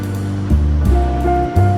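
Liquid poured into a pot of vegan gumbo, a continuous close-up pouring and sloshing with a few louder surges, alone without talk.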